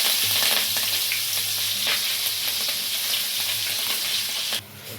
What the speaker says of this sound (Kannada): ಕರಿಬೇವಿನ ಸೊಪ್ಪಾದ ನಂತರ ಸ್ವಲ್ಪ ಕೈಯಾಡ್ಕೊಳ್ಳಿ.